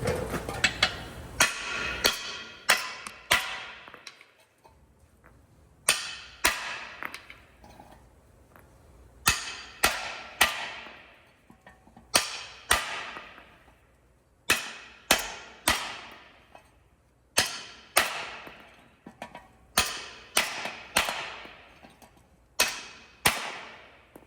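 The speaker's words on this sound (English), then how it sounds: "Make sure your hammer is nice and clean. You don't want to swing this and slip it." Loud, sharp metallic hammer strikes on wheel studs during a brake rotor replacement, in quick bursts of several blows, each ringing briefly, separated by short pauses.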